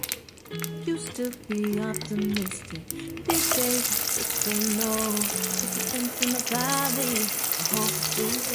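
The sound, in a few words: onions sautéing in oil in a pan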